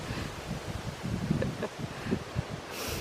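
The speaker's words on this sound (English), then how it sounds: "it's too windy" Gusty wind on the Bibbulmun Track buffets the microphone, producing low rumbling thumps and rustling that rise and fall over a few seconds.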